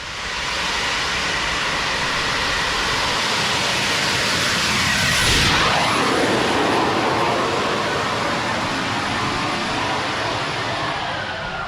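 A small jet turbine engine mounted on a bicycle roars steadily and loudly, swelling to a brief peak midway as it passes close, then easing back as the throttle is held low.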